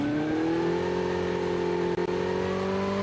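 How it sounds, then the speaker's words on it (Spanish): A video game motorcycle engine revs loudly and steadily, its whining pitch climbing gradually with a brief dip near the end, with no one talking. "Vamos en mi moto."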